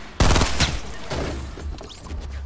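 Shotgun blasts in the battle royale game Fortnite: a loud, close burst of rapid shots, then a second sharp blast, fading into softer scattered game noise.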